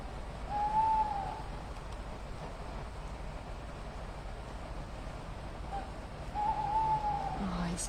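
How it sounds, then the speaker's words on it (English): Two drawn-out tawny owl hoots sound a few seconds apart over a quiet, steady night background hiss in the South Downs. "is that the first time you've ever heard a tawny owl?"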